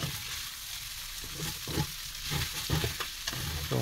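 Pastil, Batangas style, fries in oil in a pan with a soft constant sizzle while a utensil scrapes and stirs in irregular bursts, close by and fairly quiet.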